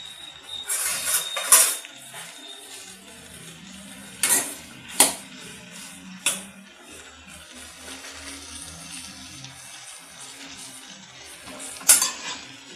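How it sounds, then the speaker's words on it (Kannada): Okra (ladies finger) frying in a pan, with quiet sizzling broken by several sharp clinks and scrapes of a utensil against the pan. "ಈಗ ಬೆಂಡೆಕಾಯಿ ಚೆನ್ನಾಗಿ ಫ್ರೈ ಆಗಬೇಕು."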